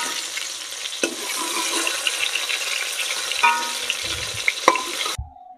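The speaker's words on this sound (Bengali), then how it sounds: "এই যে আমার বেগুন ভাজা হয়ে গেছে" Eggplant slices frying in hot oil crackle and sizzle steadily up close, broken by a few sharp utensil knocks and scrapes before the sound cuts off abruptly at the end.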